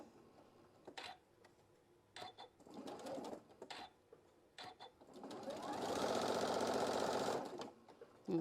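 A sewing machine stitches fabric for an egg pocket, short separated bursts of rapid needle clatter followed by a longer sustained run, close and fairly quiet.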